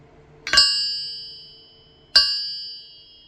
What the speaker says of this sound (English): when you take this crankshaft, and you just give it a little tap